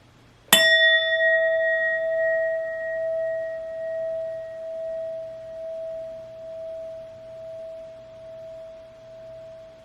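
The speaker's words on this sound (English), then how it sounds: "I will be using my sound bowl to clear and set the energy." A sound bowl struck once: a bright metallic strike followed by a long, pure ringing tone that slowly fades, with a gentle wavering pulse, alone in a quiet room.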